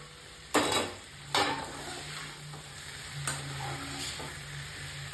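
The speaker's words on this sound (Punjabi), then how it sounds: "ਬਸ ਇਸੇ ਤਰ੍ਹਾਂ ਆਪਾਂ ਹਿਲਾਈ ਜਾਣਾ ਹੈ ਵਿੱਚ ਵਿੱਚ" Taro (arbi) curry being stirred in a kadai: a few sharp scraping strokes of the spoon against the pan over a soft, steady sizzle, with quieter stirring between them.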